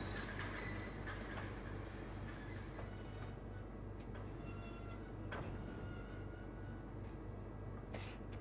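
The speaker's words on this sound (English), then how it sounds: "This train is very difficult to drive." Subway train running in a railroad simulator game, a steady loud rumble of wheels and motors with occasional clicks and faint squeals throughout.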